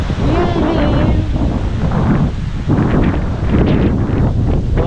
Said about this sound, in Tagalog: Malakas na naman ang hangin.